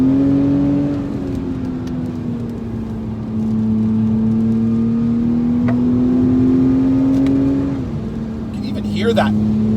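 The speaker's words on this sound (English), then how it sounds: "Hear that turbo whistling as we move through the revs here." A 2021 Acura TLX A-Spec sedan with all-wheel drive climbs through the revs, its engine drone rising and dipping with a thin turbo whistle on top, steady and close, with a voice talking over it.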